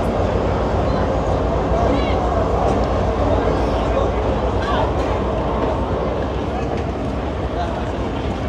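A train pulls into the neighbouring platform of a railway station, a steady loud rumble with faint rail clatter running throughout amid the ambient noise of a busy platform, with voices nearby.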